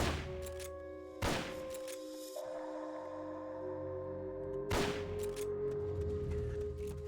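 Gunfire in the video game Metal Gear Solid Peace Walker after a suppressor wears off: two sharp, isolated shots a few seconds apart over steady tonal game ambience, with no talk.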